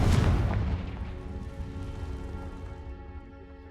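A fiery Confringo spell blast in a wizarding video game: a loud booming burst at the start, followed by a long rumbling, crackling decay that fades over several seconds.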